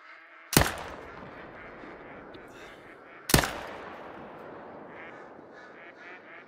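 Two sharp, loud rifle shots ring out about three seconds apart during a deer hunt in a video game, each with a quick decaying tail over a steady low background.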